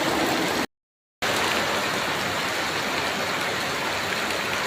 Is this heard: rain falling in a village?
yes